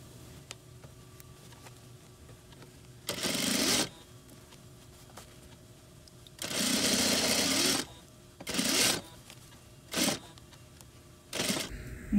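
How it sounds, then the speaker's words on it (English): A sewing machine stitches a sweatshirt hem in several short bursts of rapid whirring, each lasting a second or less to a few seconds, separated by quiet pauses, close up and clear. "And then I keep sewing."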